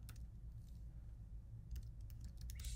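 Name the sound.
typing on a computer keyboard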